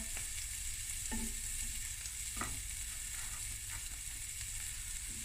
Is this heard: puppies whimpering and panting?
no